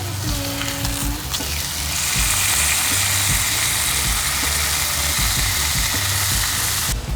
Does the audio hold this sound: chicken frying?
yes